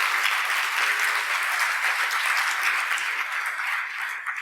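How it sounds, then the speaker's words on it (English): An audience at an entrepreneurship talk gives a sustained round of applause, dense clapping holding steady throughout and thinning slightly toward the end. "just a round of applause for the instructors who helped us along the way"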